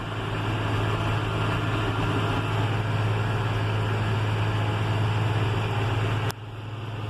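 Steady engine drone of a John Deere 6150M tractor under way at about 43 km/h, heard from inside the cab as a loud, even low rumble with broadband road and mechanical noise, cutting off abruptly near the end.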